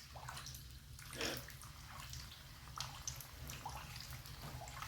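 Prosciutto and broccoli pizza fritta bubbles quietly in hot oil in a pan as it is basted, with soft continuous sizzling and occasional splashy spoon sounds.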